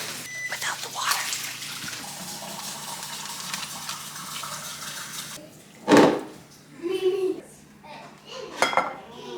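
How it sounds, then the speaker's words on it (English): In a home kitchen, hot water is poured into glass jars, giving a steady running hiss that stops partway, followed by a few loud clinks and knocks of glass and dishes, close by. "We're just gonna let each jar fill up with hot water."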